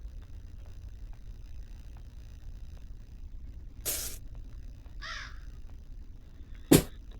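A crow caws a few times in the Granny video game, each call short and fairly faint over a low background hum, with a sharper click-like sound near the end.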